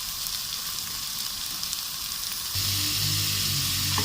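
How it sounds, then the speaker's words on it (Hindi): Vegetables stir-frying in a pan for a konjac noodle dish, a steady broadband sizzle throughout that grows louder and denser partway through, with a low hum underneath and no talking. "ये तकरीबन 1-2 मिनट स्टर फ्राई करने के बाद हमारी सब्जियां जो हैं ये अभी आप देख सकते हैं कि ये खड़ी खड़ी हैं।"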